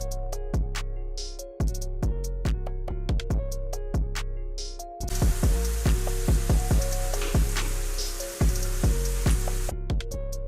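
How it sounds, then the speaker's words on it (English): A chickpea mixture for spicy buffalo wraps cooks in a pan over medium heat with a soft, steady sizzle, mostly buried under loud, rhythmic background music. "keep your chickpea mixture on a medium heat and cook it to 3 to 5 minutes"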